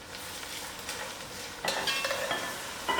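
Masalas and coloring cooking on moderate heat in a pot for vegetable biryani, with a low sizzle and stirring scrapes that grow louder and busier halfway through, heard up close with no speech.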